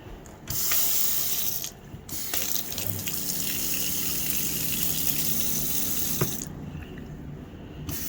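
Water runs steadily from the faucet into the sink of an RV in freezing winter weather, a continuous splashing gush with a few brief clatters.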